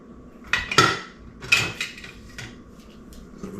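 A spoon scrapes and clinks against a crockpot as heavy cream is stirred into ham potato soup, a few distinct metallic knocks and scrapes spaced apart over a quiet kitchen background.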